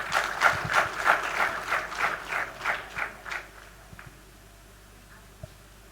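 An audience claps at a thanksgiving ceremony during a youth retreat at St. Xavier's College. The applause comes in rhythmic, pulsing waves, then fades out after a few seconds, leaving near silence.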